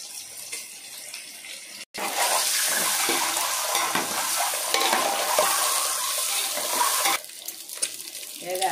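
Salt, turmeric and chili powder go into a hot pan for egg biryani and fry with a loud, steady sizzle that starts abruptly, holds for several seconds, then drops back to a quieter background.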